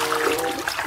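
Water trickles and splashes steadily while a toy lion is washed, a close, continuous dribbling with small splatters.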